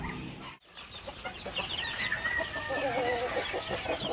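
Young male layer-breed chicks in a double-deck cage cluck and peep steadily at close range, the overlapping chirps rising into a busy chatter with no voices.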